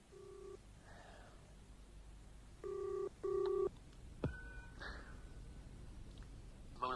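A telephone number is dialed in a radio drama: a few tones and two louder dual-tone beeps, then clicks and a brief tone under low background hiss, with a faint gasp-like breath.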